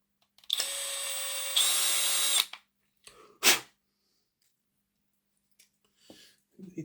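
Power drill boring into Hornby 0-4-0 tank locomotive parts, a close, steady whine in two bursts over about two seconds, then a short sharp whirr and faint clicks and handling noises.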